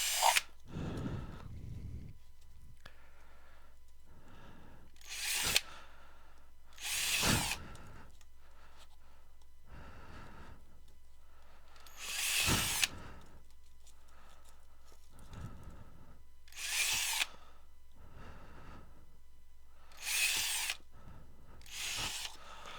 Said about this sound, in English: I'm going to drill the bottom out.